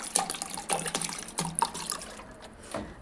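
Lukewarm water trickling and splashing into a cup, close and fairly steady, then tapering off toward the end.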